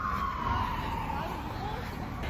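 An emergency vehicle siren wails in the distance on a street while someone walks home, a faint falling tone riding over steady traffic and street noise, with a voice faintly present.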